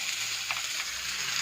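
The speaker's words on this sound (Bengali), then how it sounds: "পেঁয়াজটা একটুখানি ভাজা ভাজা করে নেবো" Chopped onion frying in hot oil with whole cumin, bay leaf and dried chilli, a steady close crackling sizzle with faint stirring movement, loud and unbroken throughout.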